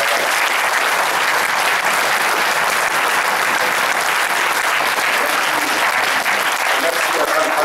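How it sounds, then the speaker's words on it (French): A hall audience at a local French candidates' event claps steadily and loudly, a dense, even wash of applause that holds for several seconds without pause. "vous pouvez l'applaudir parce qu'il a fait le travail"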